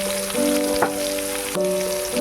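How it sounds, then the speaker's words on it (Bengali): Chopped onion dropped into hot oil already used for frying potatoes, with cumin seeds, sizzling steadily and close by, with a brief louder crackle partway through and a faint steady hum underneath. "ওর মধ্যে আমি পেঁয়াজ কুচিটা দিয়ে দেবো।"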